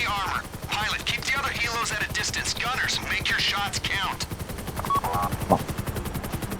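Rapid bursts of automatic gunfire aimed at a helicopter during a video game heist, loud and continuous, mixed with excited shouting voices over the shooting.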